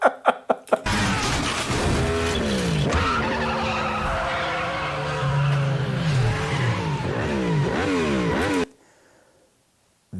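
A motorcycle in a movie scene locks its rear wheel and skids. A long, loud tire squeal wavers in pitch over several seconds with engine noise underneath, after a few sharp opening hits, then cuts off abruptly to near silence.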